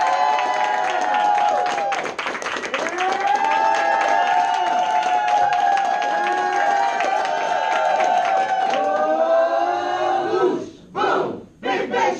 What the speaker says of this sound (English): give a big round of applause for our Senior Marketing Director, Ash Angrish